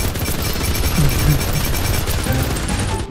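Rapid bursts of automatic gunfire rattle continuously through a mining battle video game, loud and dense with booming impacts layered underneath for the whole stretch.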